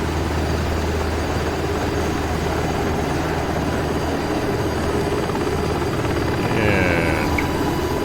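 A helicopter, apparently in a flight simulator, drones steadily and loudly throughout with a low rotor rumble and a constant engine hum. A brief warbling tone rises near the end.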